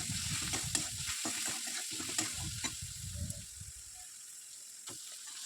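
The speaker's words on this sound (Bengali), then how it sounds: "একটু সয়া সস দিয়ে আরেকটু ভালোভাবে নাড়াচাড়া করে নিতে হবে।" Jackfruit chicken being stirred in a pan with soy sauce, loud sizzling under irregular scraping and stirring strokes throughout, with no talk.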